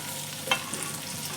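Onion, tomato and garlic frying in a pan, a steady soft sizzle with a brief louder stir or scrape partway through, close and continuous with no voices.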